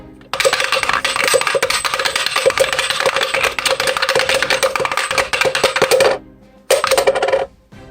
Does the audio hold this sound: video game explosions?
no